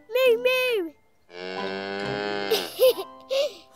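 On a farm, a cow gives a long, loud, sustained moo, with a child's and an adult's voices imitating mooing just before and just after it.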